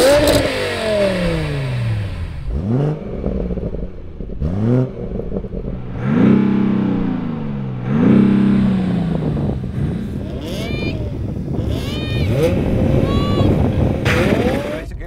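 A BMW 840d, an M140i and an E60 M5 with a V10 launch off the line in a drag race, engines revving up loudly in rising sweeps with gear changes, close and prominent, with a voice talking over them.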